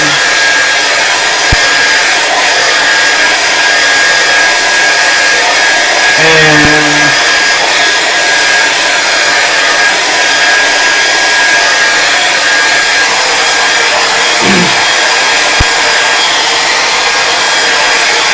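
A hair dryer blows steadily on a painted canvas with a tree, a loud constant whooshing roar held close throughout, with a couple of brief bumps and a faint voice midway.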